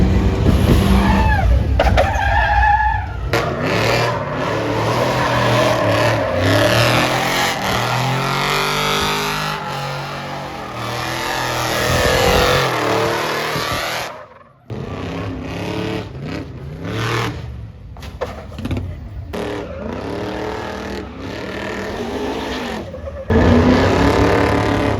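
Cars race around a sand track at the Sand Sport Super Show, with engines revving and roaring loudly and continuously, speed rising and falling and tyres skidding, loud and close throughout.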